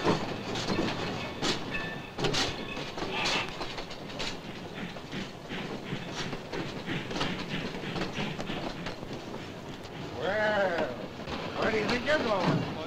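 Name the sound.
train pulling into a rail yard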